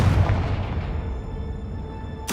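A Confringo blasting spell explodes in Hogwarts Legacy with a deep booming burst that fades into a long rumbling tail, followed by a sharp crack at the very end.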